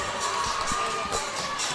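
A hockey arena crowd at a playoff game cheers as Voyagers fans rise to their feet, a steady, moderately distant roar of voices and shouts with swelling bursts.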